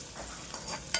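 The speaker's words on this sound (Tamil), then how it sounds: "வெங்காயத்தை நன்றாக வதக்க வேண்டும்." Chopped onions sauté in hot sesame oil with a soft sizzle, broken by a few quick scraping stirs near the end of a brief moment.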